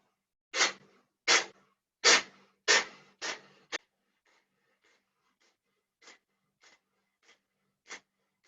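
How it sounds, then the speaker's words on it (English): Five forceful, breathy exhalations from a breathing exercise are pushed out in quick rhythm, then a few softer, fainter puffs of breath follow after a pause. "so it's passive inhale and active exhale. So you shoot out the breath, just like you're sneezing"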